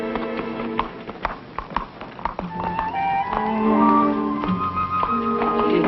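Horse hooves clip-clopping at a walk as the horse is ridden, an uneven run of hoof taps heard close, with snatches of talk alongside.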